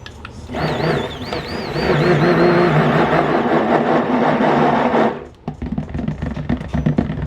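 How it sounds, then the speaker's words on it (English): A steady, loud motorized whirring of a stick blender mixing handmade soap for about five seconds, then it cuts off, leaving clattering and a few knocks. "I'll put my stick blender right over the top of it."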